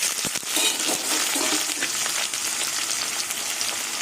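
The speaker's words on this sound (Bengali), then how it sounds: "এই তেলের মধ্যে কালো জিরে ফোড়ন দিয়ে দেবো এবার কুচুনো পেঁয়াজ দিয়ে দেবো এবার কেটে রাখা আলুগুলো দিয়ে দেবো" Chopped onions and cut potatoes frying in hot oil with nigella seeds, a loud, steady sizzle with a few stirring scrapes, close up and alone with no talk.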